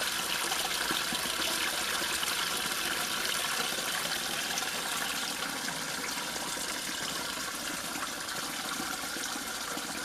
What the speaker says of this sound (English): So look how much water now is coming out of that spring well.